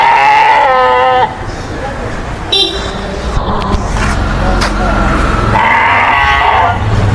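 Sheep bleating loudly and close by on a farm, several long wavering calls with a brief pause between, over background noise and some voices.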